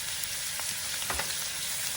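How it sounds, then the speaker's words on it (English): Chicken, bell pepper and pineapple sizzle steadily in a hot pan, a dense continuous hiss with a few soft stirring scrapes, heard alone. "kind of stir fry these three first"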